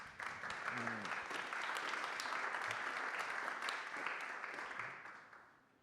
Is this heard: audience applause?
yes